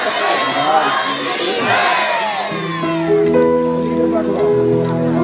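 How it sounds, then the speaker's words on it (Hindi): Crowd at a devotional jagran in Doda loudly shouting a jaikara chant to the goddess, massed voices roaring together before music with sustained tones takes over. "जयकारा बाबा चंडी महारानी जी का"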